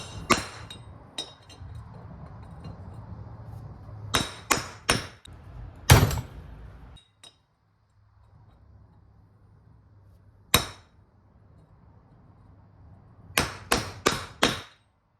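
A socket is hammered to drive out a sleeve, giving sharp metallic strikes in quick clusters of three or four, separated by quiet stretches, close and fairly loud over a low background hum.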